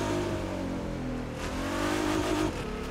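Stock Nissan GT-R in The Crew 2 driving with a steady, loud engine drone and shifting revs, continuous throughout with no talk.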